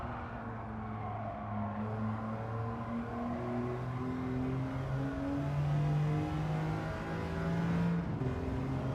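A race car engine in a racing video game time trial climbs repeatedly in pitch through gear changes, a sustained revving whine that rises and drops at each shift.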